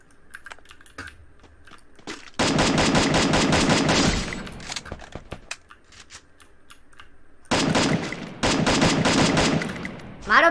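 Automatic gunfire in the Free Fire battle game: two long, dense bursts of rapid rattling shots with scattered single cracks between them, loud and close, while players talk over the action.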